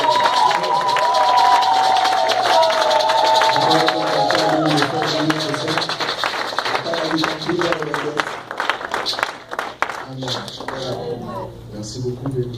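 Church congregation applauding the pastor at a home church service, sustained crowd clapping and cheering throughout with a voice talking over it and tonal sound early on.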